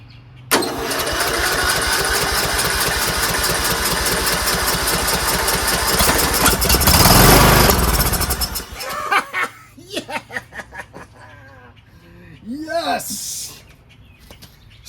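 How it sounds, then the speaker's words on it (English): A rebuilt Briggs & Stratton 19.5HP engine on a John Deere LA110 lawn tractor runs loud and close with a steady roar for about eight seconds, then cuts off; voices talk and birds chirp afterward. "rebuilt engine goes vroom"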